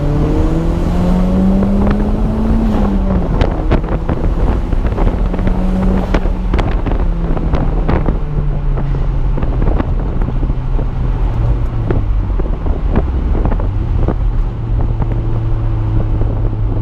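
A 1993 Toyota MR2 turbo accelerates under boost, its engine note climbing through gears in sweeping rises and drops, loud and close from inside the car, with wind rush and no talk.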